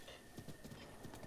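Horse hooves clip-clop in Zelda: Breath of the Wild, a steady quick rhythm of soft thuds from a ridden horse over a hissy background, with no talking.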